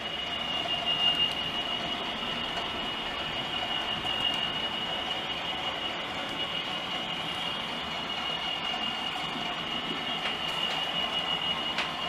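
Hornby and Bachmann model train stock runs along a model railway layout with a steady rolling rumble and thin wheel squeal, close and continuous.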